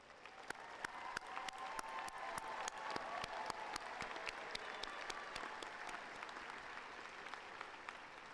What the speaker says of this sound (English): Would the parents of the graduates please stand and receive our applause?